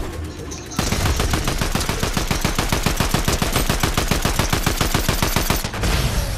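Loud, rapid automatic gunfire in Fortnite, a dense steady burst of shots lasting about five seconds with a brief lull before and after.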